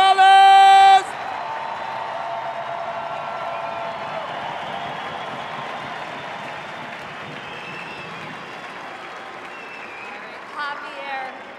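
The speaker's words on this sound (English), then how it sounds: "one last round of applause for number 11" Stadium crowd applauding and cheering for a player being honored at a retirement ceremony, a broad, distant roar of clapping and cheers that holds steady, with a loud tone and a voice at the start.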